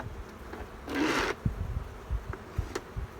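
Honeybees buzzing around an opened hive during a spring cleanup, a brief louder swell of buzzing midway over scattered close rubs and knocks of handling.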